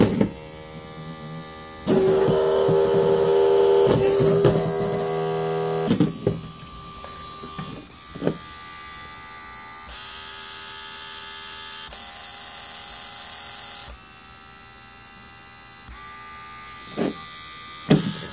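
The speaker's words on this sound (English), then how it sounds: "just switches between each motor spinning one way and then the other" Small 12 V DC motors driven by an L298 module from a Raspberry Pi whine and buzz in alternating bursts, switching direction every few seconds with brief clicks between runs.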